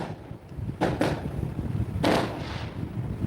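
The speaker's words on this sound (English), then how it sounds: "Yeah, it's fireworks." Fireworks exploding outside at night, two quick sharp bangs followed by a third louder burst, each with a short rumbling tail over steady wind-like background noise.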